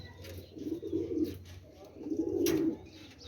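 Teddy pigeons in Rawalpindi coo in two low, soft, rolling phrases close by, with faint background chatter and rustle.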